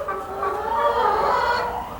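A broody hen sitting on eggs gives a continuous low, purring cluck-growl, close and fairly loud, with no talking over it.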